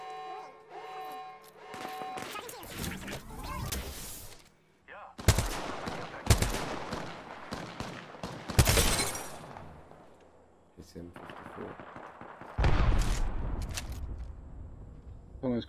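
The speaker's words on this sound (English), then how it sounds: "The enemies are shooting at me." Enemy gunfire in the shooter game Apex Legends: repeated bursts and single shots crack out in uneven clusters across the span, some loud and close, with a voice talking in between.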